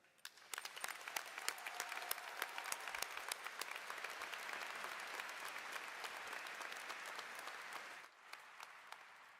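A high school graduation crowd in an arena applauds a staff member, a dense, sustained wave of clapping that carries on for several seconds before tapering off and cutting out near the end.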